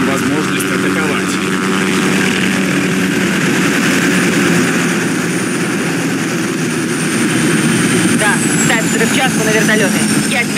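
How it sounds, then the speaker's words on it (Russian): Helicopters in Call of Duty Modern Warfare 2019 drone steadily and loudly throughout, a continuous rotor-engine roar with a rising whine near the end and voices talking over it. "Барков посылает вертолеты. Мы их сбиваем."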